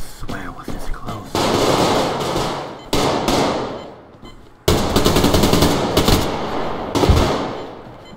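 AK rifle gunfire in the Survarium video game: several loud, close bursts of rapid automatic shots separated by short pauses, with someone talking briefly at the start.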